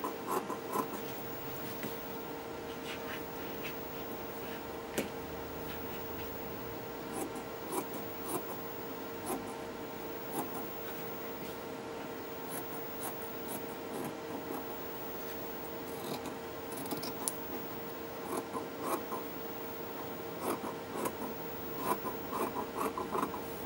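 Scissors cutting fabric for a dress bodice, a long run of close, repeated crisp snips and rasping slides across the cloth on a table, steady and fairly quiet, with no talking.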